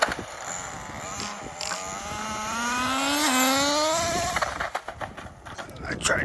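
A 2-speed HPI RS4 nitro RC car fitted with headlights buzzes with a high, whiny engine note. The note climbs steadily as it revs up over a few seconds, then breaks into choppy throttle bursts near the end.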